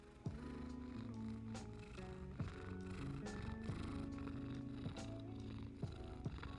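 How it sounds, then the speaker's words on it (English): A cat purrs quietly and steadily at close range, a soft continuous rumble beneath faint tonal background sound. "Can you hear him purring?"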